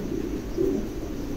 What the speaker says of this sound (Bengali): এক জোড়া কবুতর, একদম নতুন নিউ অ্যাডাল